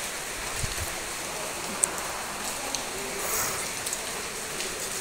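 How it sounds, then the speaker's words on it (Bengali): Steady rain falls during an Asharh monsoon shower in a garden with potted plants and trees, a continuous soft hiss with scattered drip ticks, moderately loud and with no one speaking. "অনেক বৃষ্টি হচ্ছে।"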